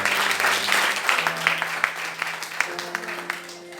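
A church congregation applauds together after the reading of Scripture, a dense, steady burst of clapping with some voices mixed in that gradually thins toward the end.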